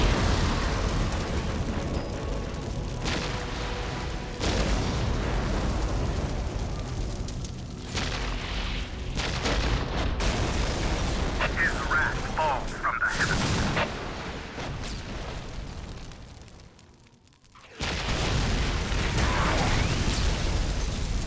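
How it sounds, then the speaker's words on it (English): Whirlwind missile artillery tank battery firing and exploding in Dawn of War, heavy repeated booms and rumbling blasts over battle noise, with a brief near-silent gap before the barrage resumes. "Preparing whirlwind missile battery to fire."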